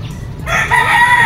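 A two-year-old broodcock gamefowl rooster gives a single loud, close crow that starts abruptly after a moment of low background noise.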